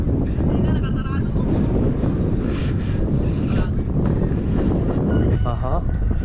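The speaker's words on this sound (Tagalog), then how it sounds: "Mahangin siya." Strong wind at Pantabangan Dam, Nueva Ecija, buffets the microphone in a constant low roar, with faint voices barely audible beneath it.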